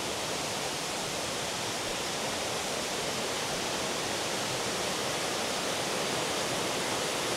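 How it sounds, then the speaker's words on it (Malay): A river rushes at a waterfall campsite in Ulu Kangsar, a loud, unbroken broadband roar of flowing water that stays constant throughout with no voices. "Itulah sungai dia."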